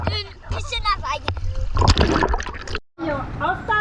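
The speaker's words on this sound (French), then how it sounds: "Un océan tranquille qui est rendu à une piscine à vagues." Calm ocean water off St Barth, lapping like a wave pool, splashes and trickles close by. Adults and someone talk over the water throughout.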